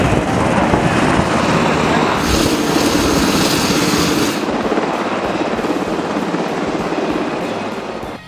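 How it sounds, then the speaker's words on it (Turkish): A loud Piper Meridian propeller aircraft roars close by on takeoff at an air show, its engine noise steady then gradually fading as it moves away. "Piper Meridian, Airport ekibiyle birlikte pist başı yapıp kısa bir sürede havalandı."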